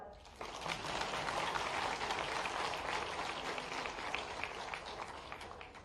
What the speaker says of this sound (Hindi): मैं आपका सबका अभिनंदन किया, ताली तो बजाओ।